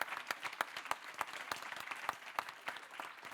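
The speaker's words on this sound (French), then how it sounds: "On peut les applaudir." An audience applauds the speakers at an evening event, a modest crowd clapping with distinct individual claps audible in a steady, moderately quiet burst.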